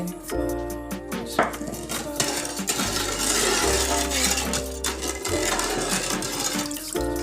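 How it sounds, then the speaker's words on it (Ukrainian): A spoon swirls sugar and citric acid through elderberry kvass in a pot. Liquid sloshes steadily, with occasional knocks of the spoon against the container over a continuous low hum. "Розмішуємо ретельно до повного розчинення"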